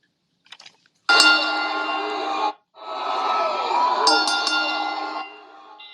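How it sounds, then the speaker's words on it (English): A dense, sustained ringing of many bells, loud and continuous, with a short pause midway before the pealing resumes and then tapers off. "can you please start us off with them bells, please?"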